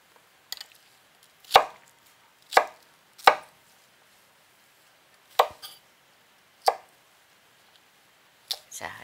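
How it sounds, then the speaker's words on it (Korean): A knife chopping cabbage on a cutting board, about seven separate sharp chops spaced irregularly with quiet pauses between, close and clear with no voices. "양배추를 지금 썰어 놨습니다."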